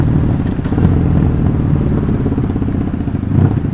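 A 1984 Honda Magna 750cc V-twin motorcycle rumbles steadily while riding, a loud, close, low throbbing engine note with clattering texture and wind noise throughout.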